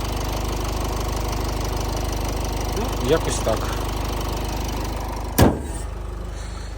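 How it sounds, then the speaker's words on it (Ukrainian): The 2.0 diesel engine of a 2011 Renault Koleos 4x4 idles close by with a low, even rumble, while someone speaks briefly over it. "робота двигуна"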